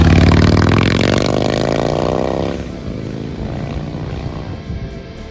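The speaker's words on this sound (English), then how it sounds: "it has that classic, almost obnoxious, loud Harley sound" A 2022 Harley-Davidson Low Rider ST with aftermarket exhaust pipes rumbles loud and close, its deep engine note rising as it pulls away, then fading into a lower, quieter idle-like drone.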